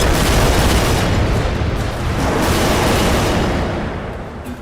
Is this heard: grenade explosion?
yes